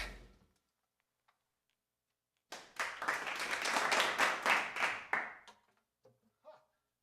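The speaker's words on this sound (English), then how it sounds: "It's always like this, you know, light applause at the beginning." Light audience applause starts abruptly after a silence, holds steady for about three seconds, then breaks off into a few scattered final claps.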